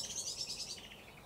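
King parrots give a brief burst of high, shrill chirping calls that overlap in quick succession, fairly close and steady for just over a second.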